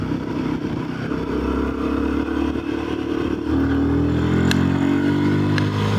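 A Royal Enfield Guerrilla 450 motorcycle engine pulls hard in third gear and rises in pitch as it accelerates, with a loud, close rush of wind and road noise.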